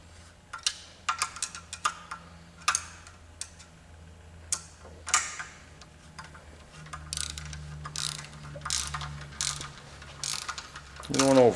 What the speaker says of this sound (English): Reinstall your acorn nuts.